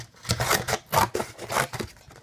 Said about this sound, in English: Now that it's finished, cut it out with your scissors.